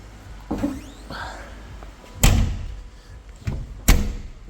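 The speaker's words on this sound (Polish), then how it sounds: "zamykamy tylną klapę" An FSO Polonez 1.5 SCE under restoration has its rear hatch slammed shut. A sharp, solid thud lands near the middle, with two more heavy knocks close together near the end and quieter rustling between them.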